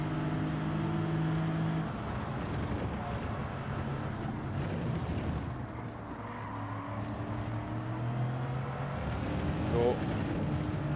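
Lexus RC F race car driving in the Gran Turismo 7 video game: a sustained engine drone with shifting pitch as it revs and shifts, steady and fairly close, with someone commentating over it.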